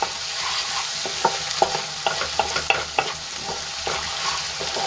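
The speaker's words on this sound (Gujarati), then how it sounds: "મિક્સ કરીને આપણે એને અડધી મિનિટ માટે સાંતળી લઈશું" Ginger, garlic and chilli sautéing in hot oil while being stirred, a steady close sizzle broken by sharp scraping and clinking strokes of a spoon against the pan.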